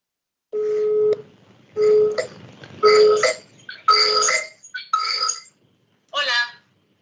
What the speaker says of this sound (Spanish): Voy a llamar por WhatsApp a Verónica